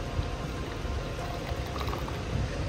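Coolant pours steadily into a triple-bypass racing heat exchanger on a ZL1 LT4 car, a continuous close gurgling trickle of liquid filling the tubes, with no talking over it.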